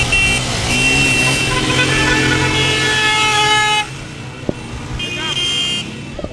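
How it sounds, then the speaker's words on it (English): Car horns honk repeatedly in a street celebration in Accra after Ghana's Black Stars beat South Korea 3-2, layered with steady traffic noise and crowd voices, loud and close, with a brief sharp knock near the end. "People are hooting their car horns"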